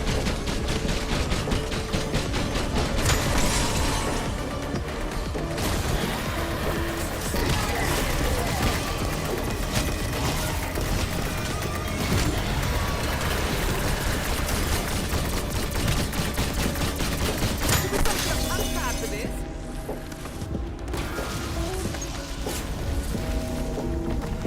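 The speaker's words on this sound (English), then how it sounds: "and just keep shooting" Sustained gunfire in The Tomb video game, dense continuous shooting with overlapping bursts and crashes filling the whole stretch, loud and close, with a brief lull near the end before firing resumes.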